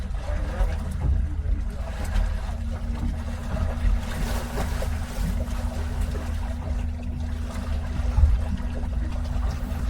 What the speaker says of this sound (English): You hear my motor start.